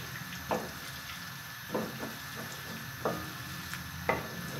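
Okra and potatoes fry over high heat in a pan as they are stirred, giving a steady sizzling hiss broken by about five soft scraping strokes at irregular intervals.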